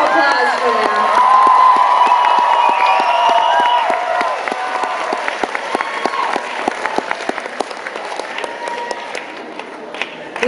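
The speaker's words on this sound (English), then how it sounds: "A huge round of applause for them." A theater concert audience at the Pabst Theater in Milwaukee claps and cheers loudly for an opening band. Applause swells into a dense, sustained roar with whoops, then thins into scattered claps toward the end.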